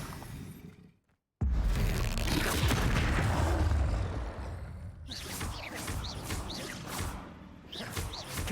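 Fiery Confringo spell blasts in Hogwarts Legacy, a loud booming, shattering burst after a brief silence, followed by whooshing rumble and crackling debris fading over several seconds, with no talk.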